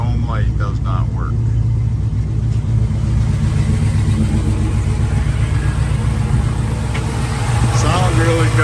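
A 1985 Chevrolet Blazer engine with an Edelbrock intake and headers rumbles loudly and steadily up close, with a deep droning tone that swells slightly as it revs.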